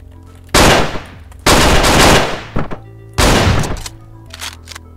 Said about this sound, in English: That Magnum is fairly loud.